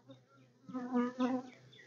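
Calm honey bees buzz during a hive inspection, a soft droning hum that swells and fades, faint and close.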